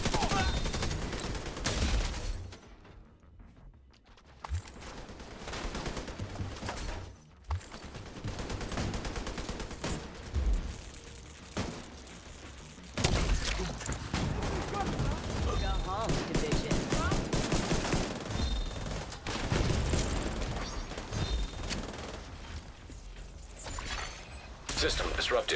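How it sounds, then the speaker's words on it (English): Mini tank fire rattles through a video game battle as a steady barrage of rapid gunfire and blasts, loud and sustained with brief gaps, while someone talks over it. "it's mini tank fire"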